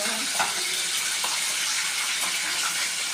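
Food fries in hot oil with a steady, hissing sizzle that holds at an even level throughout. A voice is faintly audible underneath.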